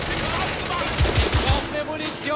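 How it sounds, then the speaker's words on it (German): Video game gunfire from The Order: 1886, fired from the hip in a quick burst of about four loud shots near the middle, over busy game background noise. "Du rennst da fast in meinen Schuss rein, weil ich einfach so aus der Hüfte gesprayt habe gerade."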